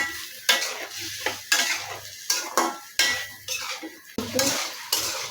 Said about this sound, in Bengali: তার পটল আলু আর টমেটোটা দিব একটু এই সবজিগুলি নেড়ে চেড়ে একটু হালকা কষিয়ে দিলে